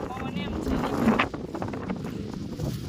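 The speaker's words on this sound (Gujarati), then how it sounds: "ઉડી જાય એવો પવન છે" Strong gusty wind buffeting the microphone outdoors on a hilltop, with a voice faintly mixed in at moments.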